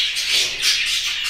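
Pet birds chirp and twitter continuously in an aviary, a dense, steady chorus of high calls with no talk over it.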